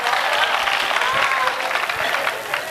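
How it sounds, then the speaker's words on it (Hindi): A poetry gathering audience claps for a kavi sammelan poet in a loud, dense, continuous burst of applause, with crowd murmur and a voice faintly underneath throughout. "एक बार मेरे लिए तालियां बजा दीजिए"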